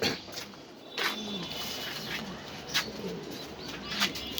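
Pigeons in molt on a farm coo softly in short repeated phrases, with faint chirps and a brief wing flutter in the background and no talking.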